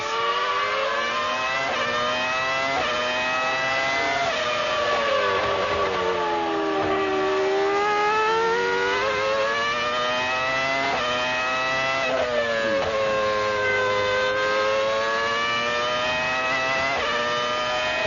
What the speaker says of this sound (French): on écoute le moteur Mercedes